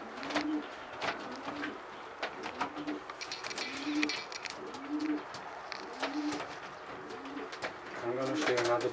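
Marathon strain pigeons coo in a repeated, regular rhythm close by, with soft rustling and faint indoor background noise in between and a louder cluster of calls at the end.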